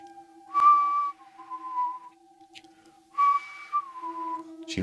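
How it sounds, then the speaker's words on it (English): Someone whistles a slow two-phrase tune, each phrase made of a few sustained notes with pauses between, over a faint steady tone. "whistling"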